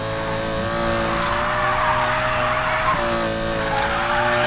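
A Lamborghini Huracan slides sideways through a drift in a racing video game, its tires squealing over a loud, steady engine roar that holds without a break.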